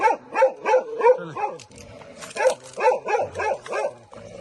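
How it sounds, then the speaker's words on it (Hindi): An Indian desi dog barks repeatedly outdoors near an old temple, a series of loud, close, rhythmic barks broken by a short pause, with some whimpering sounds between them. "ये तो को कुत्ता भौंकन लगे है, देसी कुत्ता है।"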